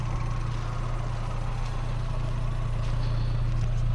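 The petrol engine of a 1999 Fiat Seicento runs at a steady idle, a close, continuous low rumble with a faint whirring above it and no voices.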